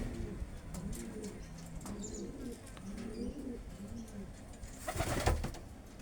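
Pigeons coo repeatedly at close range inside a small racing pigeon loft with an aluminium frame, lined walls and a plywood ceiling, with a brief burst of wing flapping near the end.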